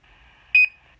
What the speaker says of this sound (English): And now we got the NASA beep